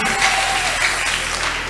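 A church congregation at a bilingual Sunday service applauds and cheers, producing a steady, dense wash of clapping with voices mixed in throughout.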